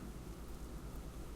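Video game weather: steady rain with a low rolling thunder rumble, soft and continuous, washing along quietly in the background with no one speaking.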